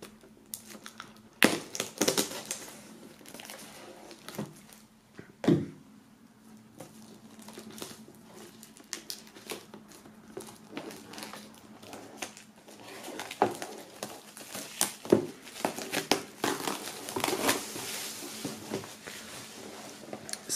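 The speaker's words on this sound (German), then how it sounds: "Wir werden das Ganze mal aufschneiden, aus der Folie befreien, damit das nicht mehr so krass spiegelt." Plastic foil is cut open and peeled off a collectible box: crinkly rustling, scattered crackles and a few sharp snaps close by, at fairly low volume, with no talking.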